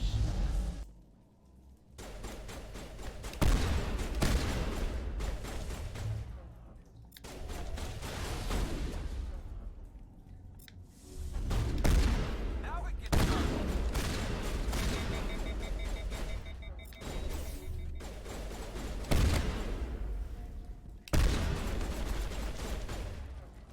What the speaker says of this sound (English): It's shoot them with the shotgun before they get you.